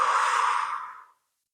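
A deep breath out during a lower-back rehabilitation exercise: one close, breathy exhale that holds steady for about a second, then stops abruptly into silence.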